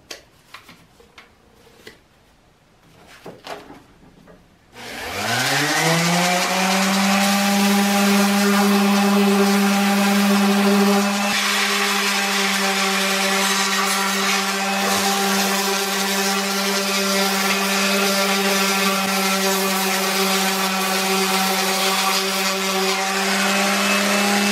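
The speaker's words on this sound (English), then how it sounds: "I'm going to use this palm sander with 120 grit sandpaper." Palm sander fitted with 120 grit sandpaper working on boat wood, spinning up after some quiet handling noises into a loud, steady, close whine with a constant buzzing hum that holds to the end.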